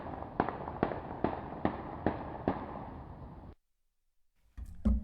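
Recorded gunfire plays back as six evenly spaced sharp reports over a dense hiss, then cuts to near silence before a brief clattering noise at the end.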